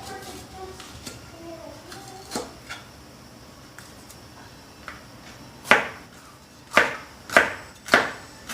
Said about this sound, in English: So we're just going to cut up a little pepper.